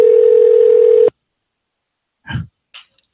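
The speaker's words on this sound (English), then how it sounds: "It's ringing right now." A steady electronic ringing tone on a Hangouts call sounds loud for about a second and then cuts off abruptly, followed by a couple of brief faint noises.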